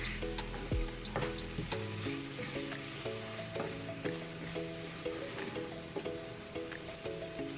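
Chickpeas are stirred in a frying pan, a soft sizzle under repeated scraping and clinking strokes of the spoon, with a faint melodic tone running in the background.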